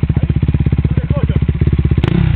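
A motorcycle engine idling close by in a fast, even, loud chugging rhythm, with a sharp thump near the end as the bike is lifted.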